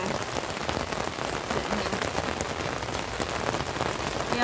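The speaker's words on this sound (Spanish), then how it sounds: "Y viene de vuelta la lluvia" Steady rain falls outdoors, a dense, even hiss of drops on surfaces that runs continuously without pause and stays moderately loud throughout.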